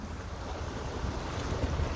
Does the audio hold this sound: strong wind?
yes